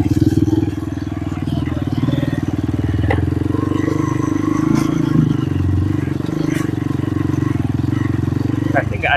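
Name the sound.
motorcycle riding on footpath to waterfall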